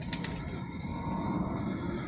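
Helmet pigeons cooing softly at close range, a low murmuring coo running continuously under faint background noise, with a couple of brief clicks at the start.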